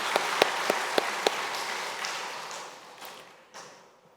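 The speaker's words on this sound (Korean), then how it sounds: "하나님께 영광의 박수 올리겠습니다." At a Sunday service at Onyang Jeil Church in Korea, a congregation claps in applause of praise, with a few sharp, distinct claps at first over a wash of clapping that gradually fades out.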